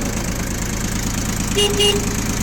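A Yanmar YM1602D compact tractor with a rotary tiller and front loader idles with a steady, close diesel chugging that stays even throughout. A brief higher tone rises near the end, and no one speaks.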